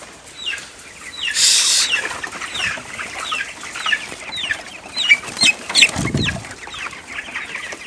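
Chickens in an open poultry house with about 3000 birds and nipple drinker lines keep up steady clucking and chatter, with a burst of wing flapping and scattered calls close by.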